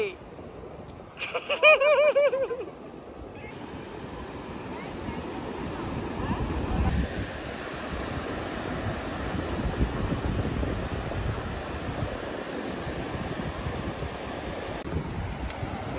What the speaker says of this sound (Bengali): জোর ঢেউ আসছে